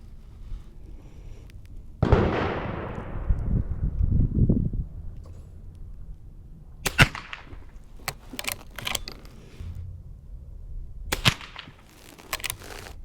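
A Marlin 39A rifle fires a few sharp, separate reports, the first followed by a long ringing decay and the later cracks coming in short bursts, loud and crisp over quiet outdoor background.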